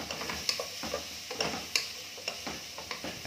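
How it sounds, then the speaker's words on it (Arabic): Meat and vegetables are stirred in a pot for lisan asfour soup, a ladle scraping and clinking in a steady rhythm over a soft sizzle, close and without talk. "بنقلب الحاجات بتاعتنا دي ببعضها كده وتاخد وش كمان مع اللحم"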